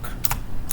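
Computer keyboard keys tapped while entering a command during an Alpine Linux install: a couple of quick, close clicks in a short, quiet burst.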